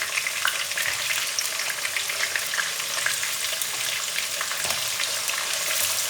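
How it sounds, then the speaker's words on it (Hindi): Onions frying in a pan of hot oil, giving a loud, dense, continuous crackling sizzle with tiny popping bursts throughout, close and unbroken. "प्याज को भी फ्राई करेंगे।"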